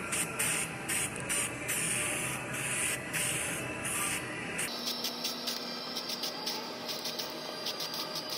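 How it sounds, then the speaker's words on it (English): Hissing bursts of weld-through primer sprayed from an aerosol can onto Hyundai Santa Fe body panels before spot welding, a long near-continuous spray followed by a quieter stretch of short pulsed squirts. "Put some weld through primer on here where I'm doing all my spot welding"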